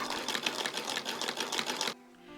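A sewing machine stitches up the lining of a wool garment, running in a steady rapid whirr for about two seconds before stopping abruptly, fairly close and alone.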